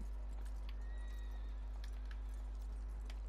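A horse in Red Dead Redemption 2 gives a short, thin whinny and snorts, with light hoof clip-clops scattered across the clip over a steady low hum.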